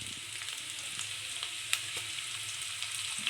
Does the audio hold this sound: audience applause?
no